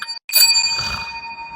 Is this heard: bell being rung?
yes